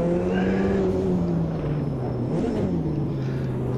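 A race car in the Automobilista 2 video game drops its engine note as it downshifts, with a short throttle blip in the middle, a steady droning tone that carries on alone.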